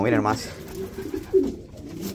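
Pigeons in a loft coo softly in low, throaty bursts, close and fairly faint, while a person talks over them.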